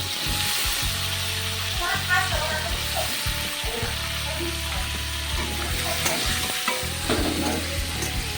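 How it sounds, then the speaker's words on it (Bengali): Carrot and potato pieces for a fish curry fry in hot oil with nigella seeds, a close, busy sizzle and frequent stirring and scraping, with a low droning hum underneath. "দেখো আমি দিয়ে দিচ্ছি গাজরটা আর আলুটা"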